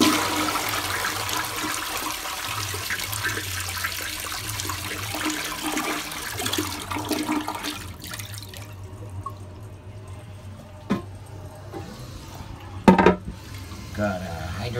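A 1995 American Standard Cadet II toilet with a leaking flapper flushes loudly with a long rushing gurgle of water, then drains away into quieter trickles and refill sounds, with a few sharp clunks near the end.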